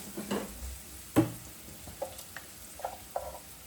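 Spice paste for a Kerala-style tomato curry sizzles faintly in a pan, with a few soft stirring scrapes and clinks spaced out over a quiet background.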